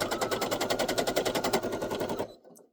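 Brother SE1900 embroidery machine stitching at a rapid, steady rhythmic chatter, loud and close, each needle stroke pulsing evenly before the motor abruptly stops near the end as the thread is about to jam.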